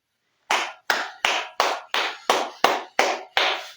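Nine sharp, evenly spaced claps in a steady rhythm, loud and close, like a crowd clapping together in unison.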